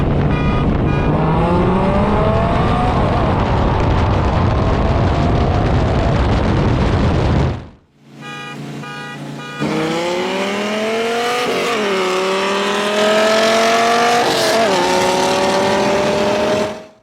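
An 8-liter V10 Dodge Viper GTS with a free-flowing exhaust races a Shelby from a 30 mph roll, its engine roaring loud and close, climbing in pitch, cutting out briefly on a shift, then climbing again.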